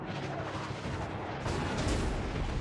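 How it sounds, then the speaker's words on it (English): Armor-piercing shells from a battleship slam into a Kronshtadt cruiser in World of Warships, a dense roar of heavy impacts and rumbling booms that swells louder partway through, with no talk. "Here come AP shots in for me."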